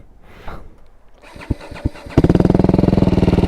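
A BMW G310R 300cc single-cylinder motorcycle engine cranks with a few sputtering coughs, then catches and settles into a steady, rapid thump, close by.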